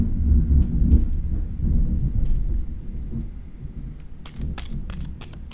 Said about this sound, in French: Éclair, tonnerre.